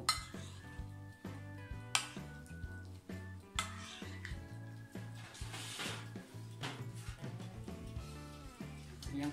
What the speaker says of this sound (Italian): Lo aggiungiamo alla nostra ricotta di zucchero e mescoliamo.